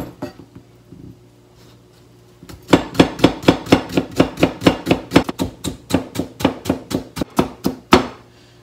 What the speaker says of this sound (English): And cut them into julienne strips.